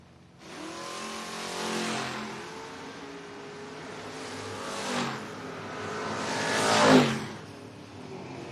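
A Corvette and a Pontiac launch in a drag race on a strip, their engines building in loud rising surges that swell and peak twice before easing off. No one speaks.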